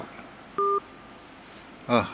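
A single short telephone keypad tone rings out clearly against a quiet background, followed about a second later by a brief voiced sound.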